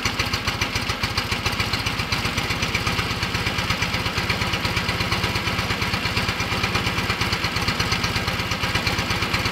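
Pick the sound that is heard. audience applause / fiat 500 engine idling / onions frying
fiat 500 engine idling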